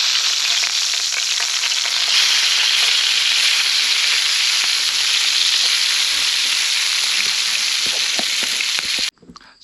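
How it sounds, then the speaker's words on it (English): Bacon sizzles and spatters steadily in a pan over a campfire at a forest campsite, a loud, close, unbroken hiss that stops abruptly near the end. "We've moved on to the bacon, so we're cooking bacon now."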